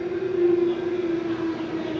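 Sydney Metro driverless train pulling into a station platform, a steady loud hum with a sustained whining electric motor tone that holds through the whole moment, no voices over it.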